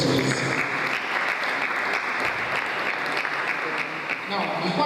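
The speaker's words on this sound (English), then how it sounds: "Give a round of applause for yourselves," Audience applause at a business conference, a dense steady roar of many hands clapping that fills the room continuously from start to finish at even loudness.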